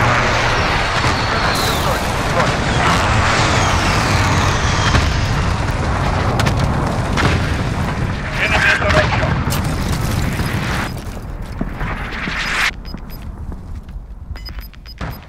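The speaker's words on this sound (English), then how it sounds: "Friendly precision airstrike on the way." Precision airstrike explosions in Call of Duty: Modern Warfare thunder as a sustained, heavy rumble of booms with aircraft roar, loud and dense, then trail off into scattered blasts and a quieter tail, with radio voices over it.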